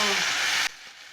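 Spices with turmeric, black pepper and dried red chilli fry in a hot pan for a Bengali rohu fish and okra curry, giving a loud steady sizzle that cuts off sharply partway through.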